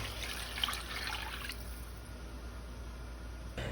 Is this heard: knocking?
no